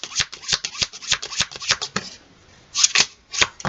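Tarot cards are shuffled by hand in quick riffling, papery bursts, close and crisp, with a brief pause before a few more snaps of cards.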